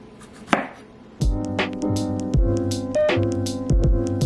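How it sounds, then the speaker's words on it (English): A knife slices fresh rinsed strawberries, a single soft cut followed by a run of repeated taps against the board, close, with faint tonal background music underneath. "I've rinsed my strawberries and now I'm going to go ahead and chop them. I'm going to do slices."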